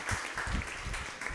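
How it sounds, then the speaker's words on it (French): Brief, faint applause from a conference audience at a talk on neural networks and Van Gogh-style images, a soft, even patter lasting under two seconds. "applaudissez-le"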